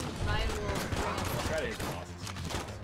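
Rapid gunfire in the roguelike shooter Enter the Gungeon, a steady dense patter of small pops layered over game sounds, with people talking over it throughout.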